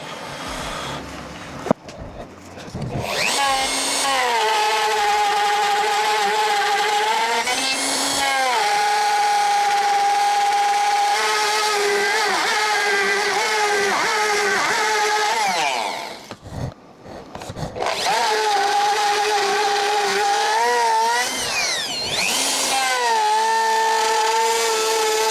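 Bearing-guided router bit cutting wood along a template, a loud sustained high-pitched whine that dips and shifts in pitch as it bites into the workpiece, with brief pauses and quiet talk between passes.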